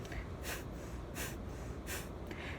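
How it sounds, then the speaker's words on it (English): Short, quick sniffing breaths through the nose during a yoga breathing exercise. Four soft, evenly spaced sniffs come through close against a quiet background. "It'll be little sniffs out like this."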